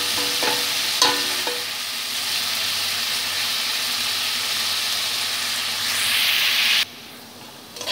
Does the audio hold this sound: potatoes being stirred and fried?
yes